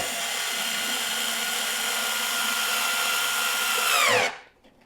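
A power drill drives a screw into a SNOO bassinet, giving a steady, close, high-pitched whine that runs for about four seconds. The pitch then drops and the sound cuts off as the motor stops.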